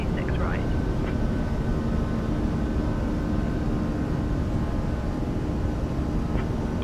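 Airbus A340 airliner climbing just after takeoff from a long runway, heard as a steady broadband engine roar with a low rumble, continuous and loud throughout, with faint voices in the background.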